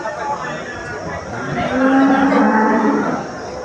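A cow lets out a long, low moo up close, rising in the middle, over murmuring crowd chatter at a cattle market in Mandi Dabwali, Punjab.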